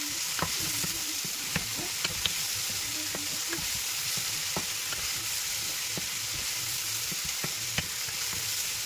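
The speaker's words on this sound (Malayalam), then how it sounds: "ഇനി അതൊന്ന് ഇളക്കി കൊടുക്കാം നമുക്ക്." Garlic paste and onions stirred while frying in a pan, with a constant bright sizzle and scattered scrapes and taps from the spoon against the pan, close up with no talking.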